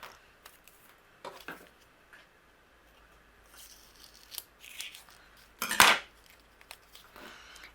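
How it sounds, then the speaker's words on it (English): Scissors snip a thin strip from a leftover piece of a craft kit guitar, mostly quiet handling with one sharp, louder cut near the end and a few soft rustles. "using the leftover piece of our guitar, I'm going to cut a thin strip"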